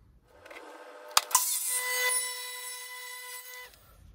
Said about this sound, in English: So we're going to rip another piece of pine down now and chop it to length on the miter saw